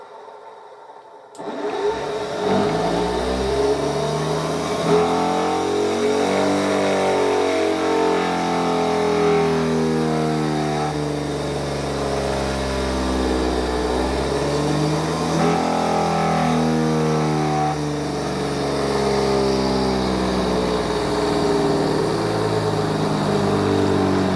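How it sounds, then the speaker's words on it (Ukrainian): An electric motor switches on after a second of near silence and runs steadily for over twenty seconds, a loud continuous hum with layered droning tones that waver slightly, close by, with no talking. "включаю двигун"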